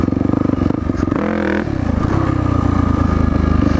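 A dirt bike engine drones loudly and close during wheelie practice, with the throttle blipped into a brief higher rev around the middle before settling back to a steady, rough idle-like thrum.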